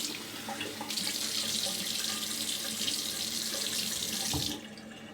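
A bathroom tap runs steadily into a sink to rinse after a wet shave with a Gillette Trac II safety razor, a continuous close hiss of water that cuts off near the end, with no talk.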